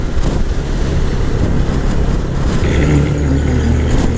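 Strong wind roars steadily across open Pakistani countryside near Talagang and Chakri village, a loud, constant rush buffeting the microphone throughout with low rumbling gusts.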